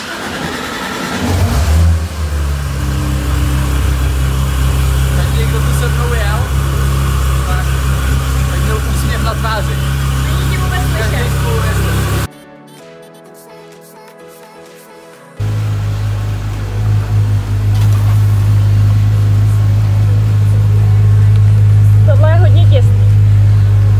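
A Porsche GT3 engine revs hard and loud for about twelve seconds. Its strong low drone cuts out abruptly, then returns at full volume. Engine tones rise and fall throughout, and no one speaks over it.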